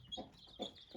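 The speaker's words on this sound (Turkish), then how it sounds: "Tavukların da kimisi dışarıda." Chickens in a coop, a few soft clucks in quick succession, close and quiet.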